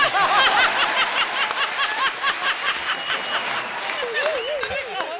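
A television comedy show's studio audience claps for a singer, steady applause mixed with laughter and chuckles while voices talk and sing over it.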